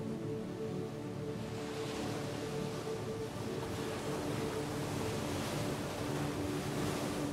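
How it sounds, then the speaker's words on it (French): Sea waves wash steadily onto the shore on a calm sunny day, a soft continuous surf roar heard alone with a light breeze and no voices. "Écoute le son des vagues."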